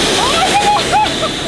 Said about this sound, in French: Je sais pas si le robinet il est allumé.